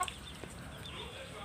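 Backyard chickens kept for their plumage colour cluck softly and steadily at close range, with faint rustling throughout and no talking.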